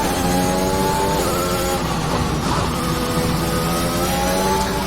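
A Formula 1 race car in the F1 2021 video game at Bahrain's Sakhir circuit roars loud and continuous, its high engine note shifting through gears, with faint tire noise beneath.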